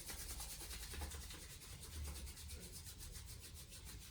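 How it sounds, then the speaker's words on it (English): Palms rubbed briskly together to build warmth during a guided yoga sequence, a steady close brushing friction that runs continuously with no talking. "Let's rub the palms to create heat."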